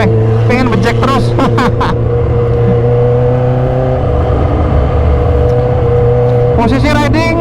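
A supercharged 2015 Kawasaki H2 motorcycle with full modifications hums steadily with a sustained engine drone under wind rush, heard loud from the rider's position, while a voice talks in short bursts at the start and end.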